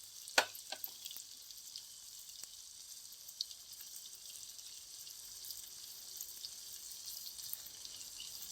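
Chicken fries in a pan with chilli, coriander and cumin powders stirred in, giving a steady faint sizzle with a sharp clink near the start.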